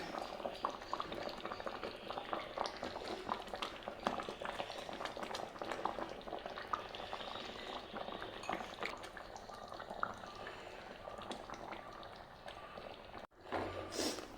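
A pot of fish mappas curry boils steadily, giving a continuous soft bubbling and gurgling. It stays faint and close-up, with a brief dip near the end.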